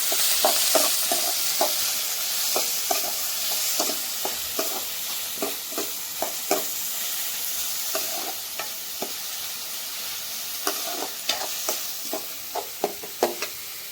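Ginger paste, green garlic and coriander being stirred into a sizzling pan for stuffed bitter gourd, a steady frying hiss broken by repeated sharp spoon scrapes and taps at an uneven rhythm, close up.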